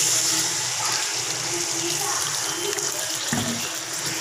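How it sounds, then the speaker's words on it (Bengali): Water is poured into a frying spice paste for an amudi fish curry, giving a loud, continuous rushing splash and sizzle that fills the whole few seconds without any talk. "এরপর এতে আমি জল দিয়ে দিচ্ছি।"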